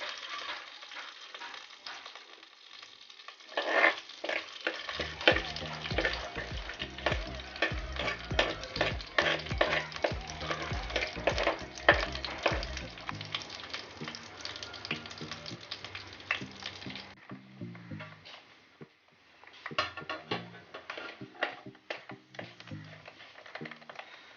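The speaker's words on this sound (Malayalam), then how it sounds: "ഇനി അതിലേക്ക് സ്വല്പം അരി കൂടി ഇട്ട് കൊടുത്ത് നന്നായിട്ടൊന്ന് മുരിച്ചെടുക്കാം" Raw rice stirred and roasted in a hot pan for a Kerala pumpkin leaf thoran, giving a steady dry rattling and scraping with faint sizzle in close, rhythmic strokes that pause and resume near the end.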